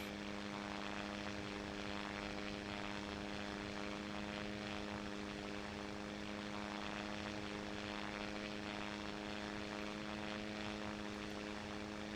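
A Japanese World War II fighter plane in a video game drones with a steady propeller engine hum, strong harmonic tones holding constant and continuous throughout, with no talk.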